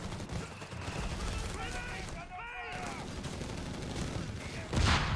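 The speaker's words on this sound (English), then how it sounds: "Infantry taking shots at us. Shoot back!" Gunfire from infantry in the Company of Heroes 3 strategy game, a steady low crackle of shots under game unit voices, with a louder burst near the end.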